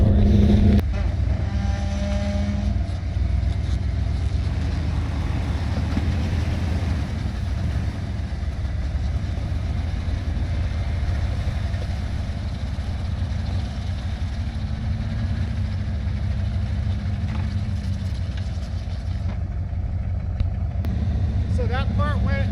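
Vehicle engine under load with throttle while pulling another vehicle, comparing tracks and tires; a steady continuous rumble runs throughout with voices talking over it.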